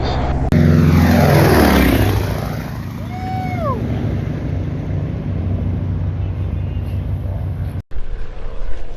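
A 1936 Lockheed 12A airplane makes a low sideways pass, its engine and propeller roar loud and close at first, then sweeping past with a falling pitch and fading to a steady distant drone.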